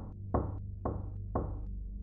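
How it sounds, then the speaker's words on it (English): Three firm, evenly spaced knocks on a door, each a dull hollow thud with a short ring, heard close and alone in an otherwise quiet room. "We got about halfway through the movie when there was an unexpected knock on the door."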